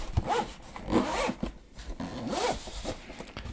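A zipper runs along a Devaso Mario Nintendo Switch case in a few quick, close scratchy pulls, each stroke rasping briefly before the next.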